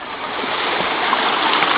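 River water flowing steadily at a youth campsite, a loud, close, continuous rushing wash with no break and no voices.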